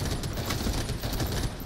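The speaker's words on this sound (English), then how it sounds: "my suppressor is firing cannon shots, is dealing so much damage" Rapid suppressed gunfire in an early-access shooter game, a dense, continuous stream of muffled shots at a fast, even rhythm, heavy and close.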